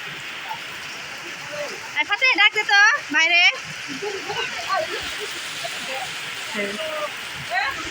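Steady rain hisses on a tin roof throughout, with a few children's voices talking and calling over it in the middle, in a village.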